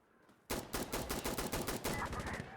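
A rapid hip-fired burst of automatic gunfire in the video game Insurgency: Sandstorm, about a dozen loud sharp shots in quick, even succession.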